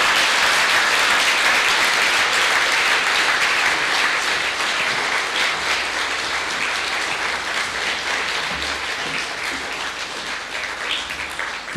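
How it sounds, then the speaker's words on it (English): Conference attendees at an early childhood development event give sustained, loud applause for a head of state, a dense wash of clapping from a large crowd that tapers slightly toward the end. "Let's give a round of applause for His Excellency the President."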